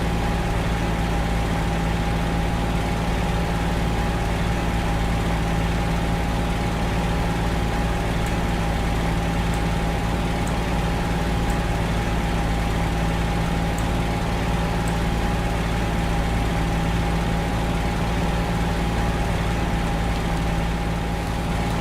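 A P-40E-1 fighter's piston engine drones at a steady idle while taxiing in the Il-2 flight sim, a constant loud hum with a rough, rain-like hiss throughout and no speech.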